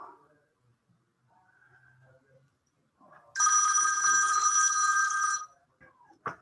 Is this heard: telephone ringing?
yes